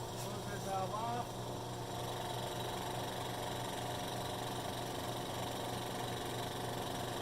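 A rebuilt BRP-1 recovery pump runs while building pressure toward 150 psi, giving a steady, close mechanical drone with a constant motor hum and slight vibration throughout.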